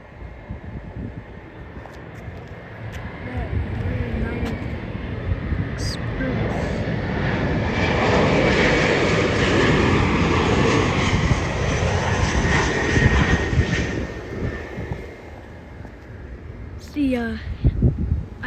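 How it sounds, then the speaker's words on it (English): An Icelandair airliner being pushed back at SeaTac airport gives off a steady jet engine whine and roar that swells and holds, heard from outdoors at a distance, with a person talking at the start and end. "Iceland Air is just being pushed back."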